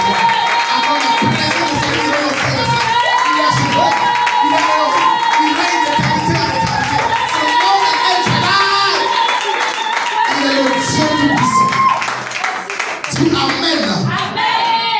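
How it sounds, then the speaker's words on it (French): A church congregation claps and cheers in worship, with steady rhythmic clapping and crowd voices over loud music, and singing or shouting carrying through. "acclame-le fortement si tu veux"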